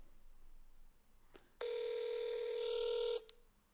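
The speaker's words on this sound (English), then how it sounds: "I get a second call on my phone because obviously I only have one phone number here" A phone signals an incoming second call during a voice AI handover demo: one steady, bright electronic tone lasting about a second and a half, moderately loud over faint background hiss and a few soft clicks, with no speech.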